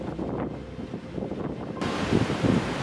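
Strong gusting wind from a cold front storm on the coast at Myrtle Beach, a loud continuous roar buffeting the microphone, with broadband rushing that surges louder and harsher in the last second.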